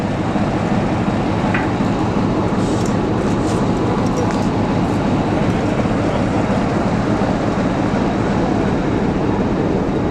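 Steam locomotive at the Gorna Oryahovitsa depot, a steady loud rumble and hiss of rail machinery close by, continuous throughout with a few faint higher clanks and squeals.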